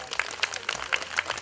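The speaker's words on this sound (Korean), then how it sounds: "저기 박수는 크게 칠수록 좋은 거야" A crowd at a Korean Buddhist prayer ceremony claps in rhythmic bursts about four times a second, moderately close and fairly loud.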